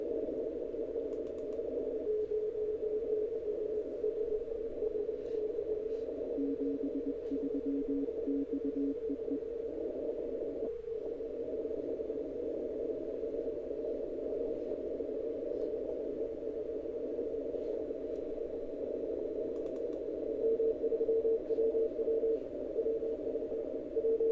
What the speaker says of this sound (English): here you can see some CW